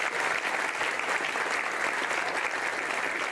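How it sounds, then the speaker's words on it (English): Steady, sustained applause from a breakfast meeting audience honouring county officials, many hands clapping in a dense, even roar at constant loudness with no voices breaking through. "Give them all a round of applause."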